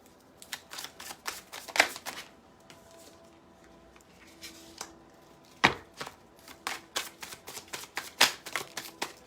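Tarot cards shuffled by hand, a run of quick crisp riffles and soft slaps coming in uneven bursts, close and fairly quiet with no talking.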